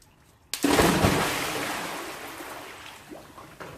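Someone plunges into a backyard swimming pool during an Australian summer, one loud sudden splash followed by churning water that slowly fades.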